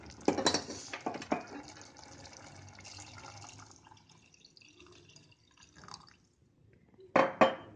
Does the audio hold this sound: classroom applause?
no